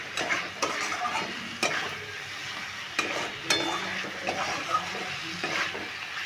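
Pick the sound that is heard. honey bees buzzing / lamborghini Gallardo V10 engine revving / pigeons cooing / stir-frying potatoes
stir-frying potatoes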